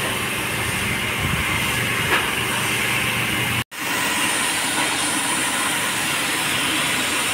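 A pressure washer blasts water across a plaza in a constant, loud, broadband hiss that cuts out once for a split second and then resumes.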